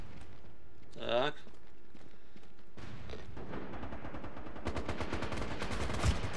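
Gunfire in an online multiplayer shooter game, bursts of rapid shots growing denser toward the end, with a short vocal sound early on.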